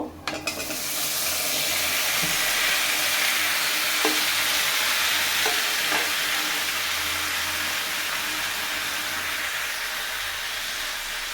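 Chopped tomatoes dropped into a hot pan for tomato chutney, bursting into a loud, steady sizzle that stays strong throughout, with a few faint clinks of a spoon stirring.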